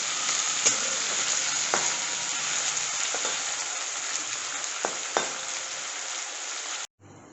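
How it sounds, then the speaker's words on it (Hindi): Potatoes and spices sizzle steadily in a pan for dahi poha while a spoon stirs them, giving several faint scraping taps over the constant frying hiss, which cuts off at the end. "अब हम इसे अच्छी तरह से मिक्स कर लेंगे।"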